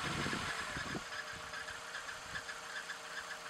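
A car engine idles during a camshaft position sensor test, a steady low mechanical rumble with faint regular knocking pulses, moderately quiet and alone with no talk.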